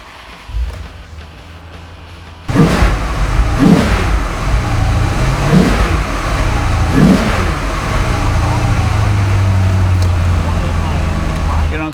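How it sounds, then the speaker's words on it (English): A 2005 Maserati Spyder Cambio Corsa engine fires up after a quiet moment, then settles into a loud, steady exhaust rumble with several sharp throttle blips close by. "Let me start it for you so you can hear what it sounds like"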